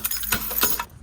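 A bunch of keys jangles up close in short metallic bursts, clinking and chinking several times over about a second with no talking.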